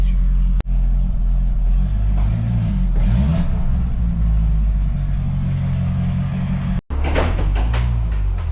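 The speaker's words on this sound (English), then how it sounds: "Nothing better than an LS9 startup." An LS9 V8 car engine starting up, with a deep, loud, close idle rumble broken by two sharp cut-outs and a raspy rev burst near the end before settling again; no talking.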